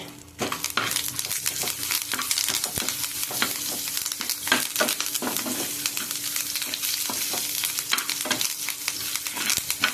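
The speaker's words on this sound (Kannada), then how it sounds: "ನಾನು ಕೊತ್ತಂಬರಿ ಸೊಪ್ಪು, ಅದಕ್ಕೆ ಸ್ವಲ್ಪ ಕರಿಬೇವು ಹಾಕುವ, ಪರಿಮಳ ಆಗುತ್ತೆ" Coriander leaves and curry leaves fry in hot oil in a pan with a steady, close crackling sizzle, punctuated by sharp pops and occasional clinks of a utensil against the pan.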